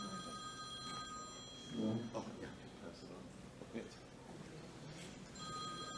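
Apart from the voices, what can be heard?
phone ringing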